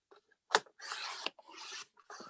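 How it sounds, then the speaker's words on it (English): A craft knife rasps through four layers of folded origami paper in short, close, scratchy strokes separated by brief pauses, quiet and with no talking. "This cutter doesn't like to cut through 4 layers."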